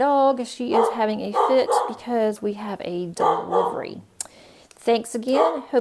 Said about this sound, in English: please excuse my dog. She is having a fit because we have a delivery.